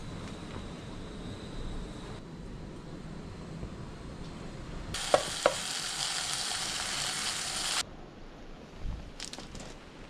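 Fish sizzles steadily in a pan over a small gas stove inside a beach cave, a hiss running throughout with a few louder crackles and bursts in the middle.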